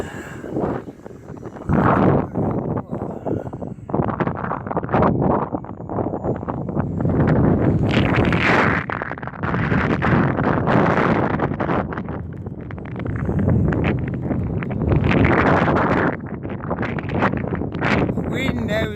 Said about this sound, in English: The wind now is really 25 miles an hour plus.